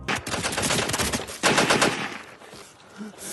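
Loud, dense bursts of machine gun fire in a film scene, soldiers shooting blindly in a panic, rapid continuous volleys with a brief break before the shooting resumes.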